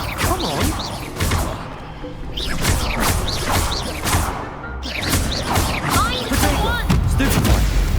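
Fiery Incendio and Levioso spell casts in Hogwarts Legacy land in rapid succession as booming blasts and swishing whooshes, loud and dense throughout, with a player's voice shouting over the combat.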